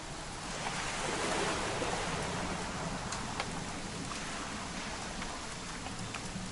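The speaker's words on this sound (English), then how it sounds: "It's gonna rain the whole weekend, isn't it?" Steady rain falling in the video game What Remains of Edith Finch, a soft, continuous hiss of drops pattering on surfaces with a few faint individual splashes.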